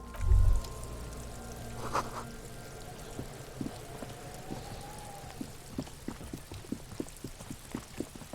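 Rain in the detective game Disco Elysium: soft, scattered drops patter on surfaces at low level after a brief dull thud, with a faint tone lingering early on.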